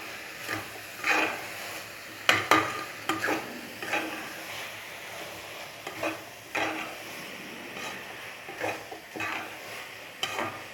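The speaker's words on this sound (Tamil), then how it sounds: "அடி பிடிக்காத மாதிரி ஓட்டிகிட்டே இருங்க." Spoon stirring and scraping thick masala in a pot for coconut milk mushroom biryani, with irregular soft scrapes and clatters over a faint sizzle, close and fairly quiet.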